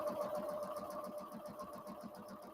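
Domestic sewing machine running a straight quarter-inch seam, a steady close mechanical whir with a fast even needle rhythm throughout, no talking.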